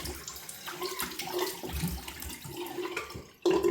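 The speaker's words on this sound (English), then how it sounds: "I'm going to rinse the face with some cold water." Cold tap water runs into a bathroom sink while a face is rinsed after shaving, a steady splashing flow with small irregular surges and a louder gush near the end, no talking.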